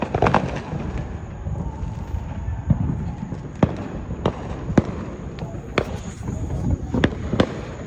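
Firecrackers burst in a steady run of sharp, loud cracks spaced under a second apart, over a busy outdoor crowd murmur with voices, while a thin high whine carries throughout.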